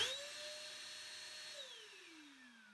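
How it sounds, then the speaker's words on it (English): A Hotpoint steam vacuum cleaner starts up with a faint, thin motor whine that holds steady, then slides downward in pitch, heard alone in a quiet room. "If I do that, it turns the vacuum on."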